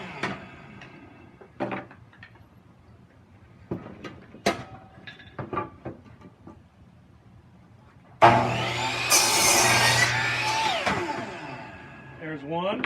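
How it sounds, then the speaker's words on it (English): Compound saw cutting wood at a 45 degree angle for a tool caddy handle, a loud rising whine of the blade biting through the board after a stretch of quiet handling and talk. "I'll just use the compound saw here"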